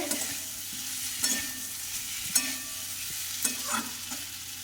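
Fried potatoes and pointed gourd sautéing in spice paste, a steady sizzle broken by several sharp scrapes and clacks of a spatula stirring the pan, close and fairly loud, with no talking.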